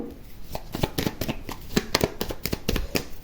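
Tarot cards being shuffled by hand, a brisk run of papery riffles and taps in an uneven rhythm, close and fairly quiet.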